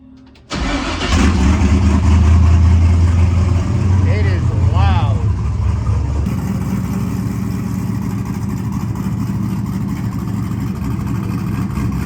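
An LS-swapped Chevy S10 with a Magna Fuel 750 fuel setup starts abruptly and runs at a loud, rough rumble, revving hard and then settling into a steady high drone, close up, with a voice speaking faintly beneath it.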